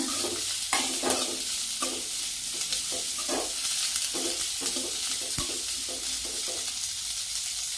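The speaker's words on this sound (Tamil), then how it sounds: "கொஞ்சமாக கருவேப்பிலை, நல்லா வதக்கிக்கோங்க" Curry leaves sauté in a pan for Tamil kodai milagai thokku, sizzling steadily with regular scraping strokes of a spoon stirring, close and fairly loud throughout.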